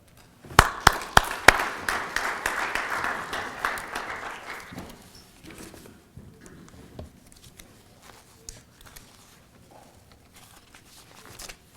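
An audience applauds to welcome speaker Rebecca Ramirez to the podium, with dense clapping for about five seconds that then thins into scattered claps and shuffling.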